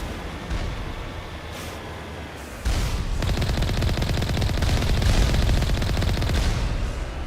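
Enemy gunfire in Mass Effect Legendary Edition. After a quieter opening, a dense, loud stream of rapid automatic fire continues without letup.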